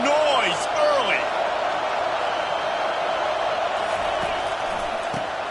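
Stadium crowd roaring steadily in an NCAA college football video game, a broad sustained wash of noise under a play-by-play commentator, with a few whistle-like swoops near the start.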